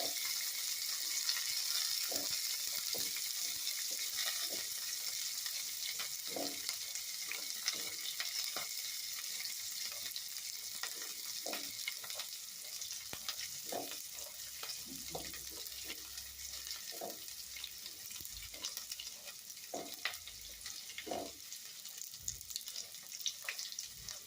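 Puffed rice (murmuralu) roasting in a pan, a steady dry sizzling hiss with repeated scraping strokes of a spatula stirring throughout, close and even in level.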